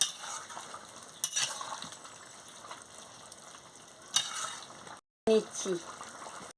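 A spoon stirs ground garam masala into a simmering potol, potato and soybean curry, with scraping clinks against the pot over a soft bubbling sizzle, broken by a brief gap.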